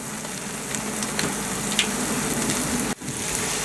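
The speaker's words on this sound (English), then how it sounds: "The next step in the process is to fry the shrimp shells to create a delicious fumet" Steady crackling sizzle of shrimp shells frying in hot oil on a sailboat, close and continuous, with a brief dip near the end.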